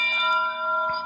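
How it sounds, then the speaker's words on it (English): An ESP32 board plays a model train bell sound: a sustained, ringing electronic tone with steady overtones, heard close and alone for about a second. "The bell,"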